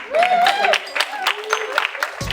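Comedy club audience clapping during a stand-up set, a scattered patter of hands with voices over it, cutting off abruptly near the end.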